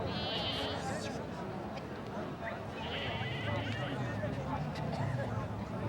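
Sheep in an Afghan village bleat in a few high, wavering calls over a busy outdoor backdrop of people talking and moving about.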